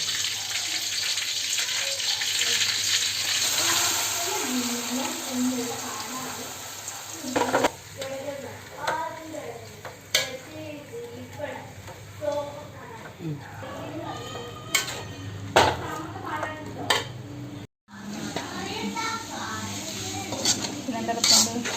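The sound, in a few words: stirring mango pickle with chili and salt in a pan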